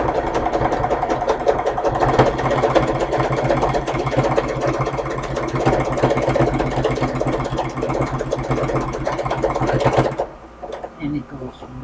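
A sewing machine runs fast and steadily, stitching a zigzag about a quarter inch from a seam, its dense rapid needle rattle continuing close and loud for about ten seconds before stopping abruptly.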